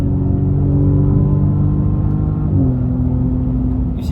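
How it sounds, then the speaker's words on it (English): Audi S6 with 32k miles in manual mode, downshifting: a loud, close engine drone holds steady, then its pitch steps up once partway through. "You're gonna hear all the downshift."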